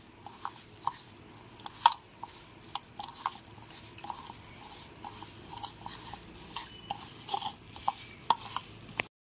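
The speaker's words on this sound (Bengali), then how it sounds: "এবার খুব ভালো করে মাখিয়ে নেব।" Soybean chunks mixed by hand with chili powder and gram flour, a steady run of soft squelching, rubbing and sharper clicky pats as the pieces are worked, close and quiet, with no speech.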